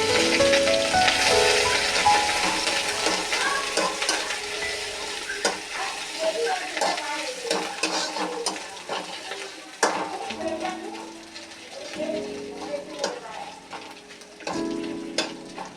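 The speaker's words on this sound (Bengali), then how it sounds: "আদা ভাজা হয়ে গেছে।" Ginger paste frying in oil in a home kitchen for a vegetarian yam curry with lentil dumplings, a steady loud sizzle running throughout with bursts of stirring and a few spoon scrapes against the pan.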